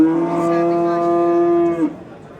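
A single cow at a livestock market gives one long, loud, steady moo lasting nearly two seconds, close by, with faint background murmur.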